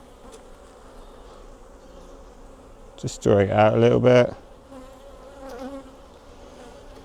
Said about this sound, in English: Let's see what these bees are like.